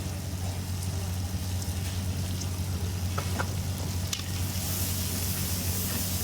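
Vegetables go into hot oil in a pan where the spices have already been fried, in a Bengali hotel-style veg dish. A steady close-up sizzle and frying hiss continues, with light stirring clatter and no talk.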